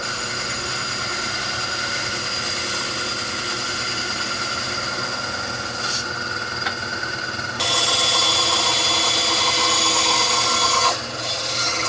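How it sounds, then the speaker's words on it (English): Bandsaw making a rough cut through traced wood for an automaton figure, a steady loud whirring drone with the blade grinding through the stock, the pitch and loudness shifting partway through as the cut changes. "I'm going to make kind of a rough cut on the bandsaw."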